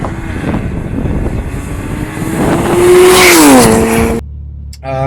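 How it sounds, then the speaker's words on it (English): A BMW 135i accelerates hard with the windows up, its engine note rising steadily in pitch and loudness before cutting off abruptly, heard from inside the cabin. "So this is the sound with those windows up, and the car pulls really strong, very, very strong."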